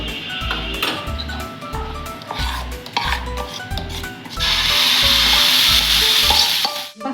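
An uttapam made from idli batter sizzles on a hot pan while a utensil scrapes and taps against it in a steady rhythm. A louder, continuous hiss of frying follows near the end.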